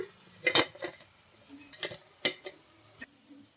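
Fried sabudana snacks are lifted from the pan onto a plate: a handful of sharp, close utensil clinks and scrapes come in scattered bursts, with no talking.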